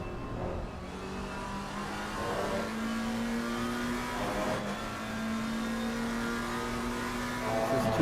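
GT3 race cars at Paul Ricard in a racing video game, a steady mid-pitched engine drone with rising and falling revs across gear changes, fairly faint and continuous, no talk.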